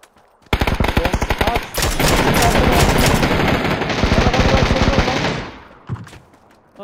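Loud PUBG gunfire: rapid automatic bursts that run almost continuously for several seconds, then a single quieter shot after a short pause.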